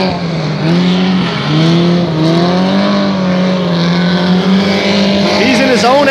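Race cars roar around a track with engine pitches rising and falling as they pass, loud and close, while a commentator talks over the noise.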